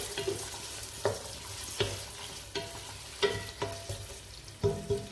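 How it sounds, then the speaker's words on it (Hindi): A large onion fries in hot oil for Hyderabadi haleem, with a soft sizzle under sharp, evenly spaced clinks and scrapes of a spatula stirring in the pan, and no voices. "ऑयल गर्म हो चुका है, इसमें 1 बड़ी प्याज डालेंगे और इसको फ्राई कर लेंगे ब्राउन होने तक"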